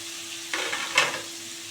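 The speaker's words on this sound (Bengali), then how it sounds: "এবার পেঁপেটা একটু ভালো করে ভেজে নেব" Washed papaya pieces frying in oil in a pan, a brief steady sizzle with two louder bursts of spitting as the wet pieces hit the hot fat, fairly close.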